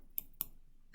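Two crisp computer mouse clicks about a quarter second apart, close and quiet in an otherwise silent room.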